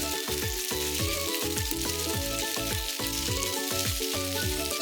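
Wakame, imitation crab and corn stir-fry in hot sesame oil with a constant bright sizzle, heard beneath rhythmic background music.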